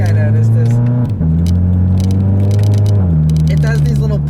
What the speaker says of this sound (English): it does these little burps almost whenever you upshift with the automatic